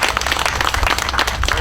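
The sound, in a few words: audience applause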